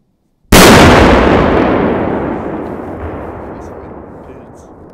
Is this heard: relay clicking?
no